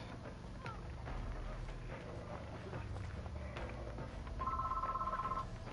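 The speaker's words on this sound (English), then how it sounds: "For God's sake, the phone." A telephone rings during a Dead by Daylight game, a steady electronic trill that sounds once near the end, over busy gameplay noise with running footsteps and scattered effects.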